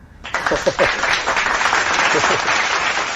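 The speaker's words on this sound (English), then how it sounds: "let's give a round of applause for Shelly." A crowd breaks into applause after a short spoken line, clapping steadily and fairly loudly for a few seconds.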